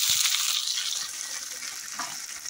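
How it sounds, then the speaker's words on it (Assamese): Chopped onions sizzle in hot oil with dried red chilies, a loud, steady crackling hiss right up close that carries on without a break and then cuts off abruptly. "এইখিনি অলপমান তেলত গৰম হোৱাৰ পিছত মই ইয়াতে পিঁয়াজ দি দিম"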